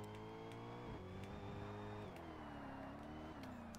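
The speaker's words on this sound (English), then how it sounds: "At least it's got the engine noise, though. I can actually hear the car." A race car engine in Forza Motorsport drones steadily, its pitch sliding up and down through gear changes and throttle shifts, sounding quiet and somewhat distant.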